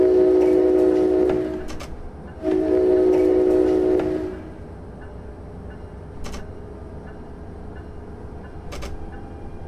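An ALP-45D dual-mode locomotive departs Long Branch station in Train Simulator 2017, on the Hoboken to Bay Head route. A loud, steady tonal drone sounds in two long bursts, then fades to a low rumble with scattered clicks.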